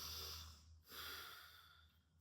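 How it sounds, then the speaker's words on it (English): During a yoga breathwork demonstration, a person takes long, audible breaths in and out through the nose, each close and airy with a brief pause between them, and no speech. "So I'm going to breathe in."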